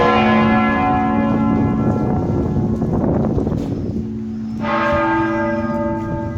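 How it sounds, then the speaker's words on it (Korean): Church bells of a cathedral in Bari, Italy peal continuously with ringing overlapping tones, loud and resonant outdoors, briefly thinning before a fresh strike renews the chime. "마침 성당에서 종소리가 나오네, 울리네요."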